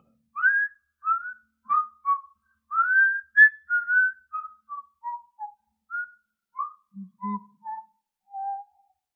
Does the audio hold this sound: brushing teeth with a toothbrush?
no